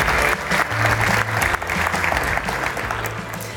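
A DockerCon EU 2018 general session audience bursts into loud, dense applause for an award winner, many hands clapping continuously over a low hum of a large hall.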